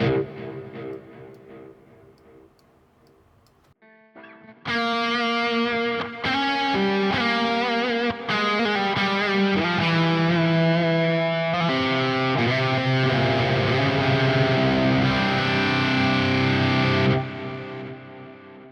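Electric guitar with a washy reverb, chords and single notes ringing out with long lingering tails after a quieter fading opening.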